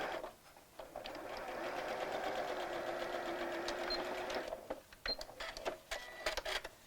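A sewing machine stitches along the side of a Barbie dress sleeve toward the hem, a sustained whirring run of rapid needle strokes that stops, followed by scattered clicks and small handling taps.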